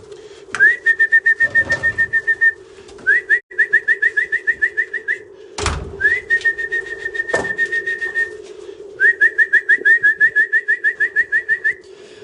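Repeated trains of quick, rhythmic pigeon coos pulse inside a loft over a steady low hum, with a couple of sharp knocks breaking in between.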